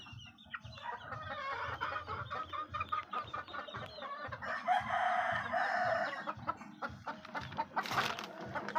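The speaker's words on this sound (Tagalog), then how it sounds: "3 months old natin ng mga" Three-month-old young roosters in an enclosure clucking continuously in a busy, overlapping chorus, with a crowing call rising among them, fairly faint overall.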